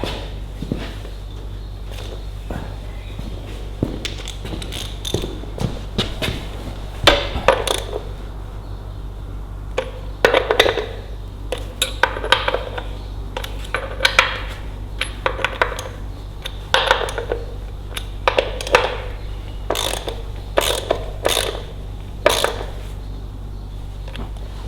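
Ratchet clicking as a bolt is tightened on a Ferguson TEA20 tractor in a workshop, with bursts of metallic ticks and clanks spread across the stretch over a steady low hum, no talking.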